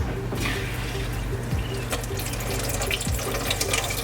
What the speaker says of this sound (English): And now here's the Aero water pump.